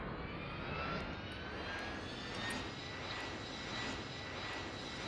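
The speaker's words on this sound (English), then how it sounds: "And the plane takes off and takes the same amount of time every time" Airplane taking off in the video game Preflight Panic, a continuous loud engine roar with a faint rising whine, steady throughout with slight swells.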